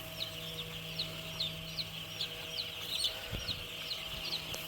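Many chickens in a poultry farm cluck continuously in short repeated calls, a busy flock chattering over a steady mechanical hum with occasional louder squawks.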